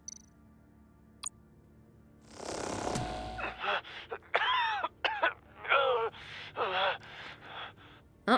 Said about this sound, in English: someone's coughing their lungs out